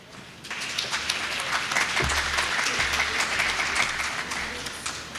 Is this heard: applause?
yes